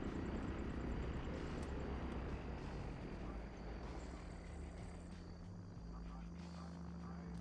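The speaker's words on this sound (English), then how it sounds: "I think they're waiting for the planes to land" Aircraft in a multiplayer PvP video game session come in to land, their engines droning steadily and loudly throughout with a constant rotor-like hum, close and continuous.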